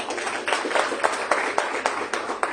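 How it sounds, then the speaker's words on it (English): Steady applause from an audience at an international management conference, a dense patter of many hands with a few sharper individual claps standing out and no voices over it. "A big round of applause for her."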